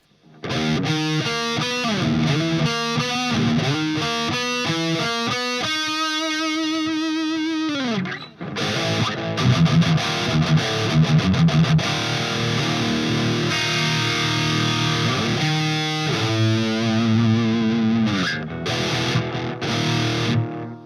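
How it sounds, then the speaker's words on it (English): An electric guitar run with a delay effect into the front end of an amplifier plays distorted arpeggios and sustained chords, each note trailed by loud, short repeating echoes, steady and alone without talk. "it's all or nothing when you're running the delay through the front end of the amp"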